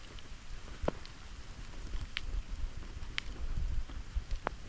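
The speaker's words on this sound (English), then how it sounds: "the rain is not that heavy" Light rain falls steadily outdoors in a Kenyan village near Naromoru town, a soft continuous patter with a few sharper drops standing out, fairly close and moderate in level with no talking.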